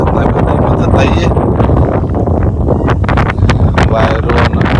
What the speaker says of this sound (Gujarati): વાયરો વરસાદ આપવાની તૈયારી છે.